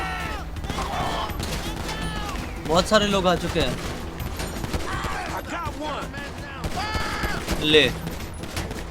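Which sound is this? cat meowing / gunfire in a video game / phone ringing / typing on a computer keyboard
gunfire in a video game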